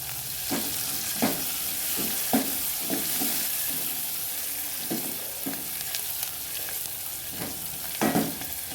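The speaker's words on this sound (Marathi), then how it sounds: "वरतून आपल्याला थोडीशी कोथिंबीर तेलामध्ये टाकायची" Coriander leaves sizzling in hot oil as a tempering for dal, a steady crackling fry with a few sharp stir or scrape accents spaced through, close and fairly quiet with no talking.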